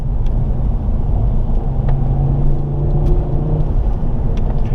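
A 2007 Ford Focus ST with a turbocharged five-cylinder engine pulls hard under acceleration, giving a steady, loud low rumble and whir with a faint rising tone and no voices over it.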